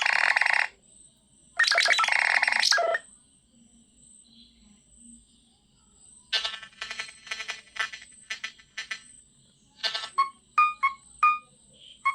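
A Nothing Phone 1 plays its ringtone for an incoming call, bright bursts of chiming and rapid trilling electronic tones alternating with short pauses, ending in a few clipped, plucked notes, clear and close with no talk.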